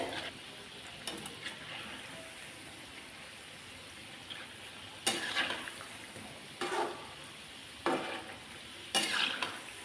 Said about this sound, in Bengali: দু পিঠি যাতে ভাজা হয়ে যায় ভালো করে